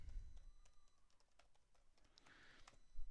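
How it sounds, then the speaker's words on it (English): A password is typed on a computer keyboard: a quick run of faint, light key clicks, sparse and irregular, close but quiet, with no talking. "Maybe if you listen to my keystrokes you can find out."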